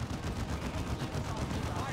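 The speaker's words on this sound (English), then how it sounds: "the Plasma Cannon hits these Banshees pretty badly" A Plasma Cannon in Dawn of War 2: Retribution fires on Eldar Banshees, producing dense, continuous crackling bursts of battle fire at close range.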